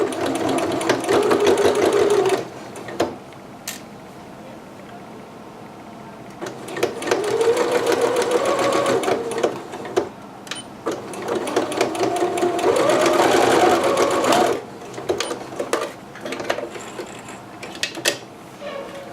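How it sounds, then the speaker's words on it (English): A sewing machine stitching a McCalls 6701 dress runs in three steady, loud bursts of rapid mechanical whirring, separated by quieter pauses with faint handling sounds. "Stitch on top of that previous stitching that you'd already done."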